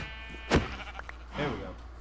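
A sheep bleats once in a video game, a short wavering cry about midway through, after a sharp thump and over faint background hum.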